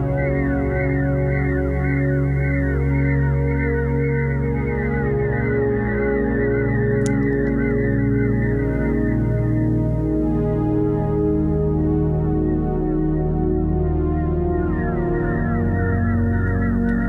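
A Korg ARP 2600 plugin synth pad driven through feedback loops produces a sustained, dense harmonic drone with repeating squawking, seagull-like cries sweeping through it, loud and continuous for the whole stretch.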